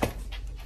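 A dog pants outdoors on a trail, a short burst of quick, close breaths with a faint whimpering edge.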